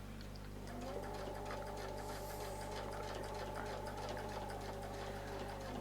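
A sewing machine stitches circles along guide lines using Artisan Curves templates, running as a steady, continuous mechanical whir with a constant motor hum throughout, with no talk.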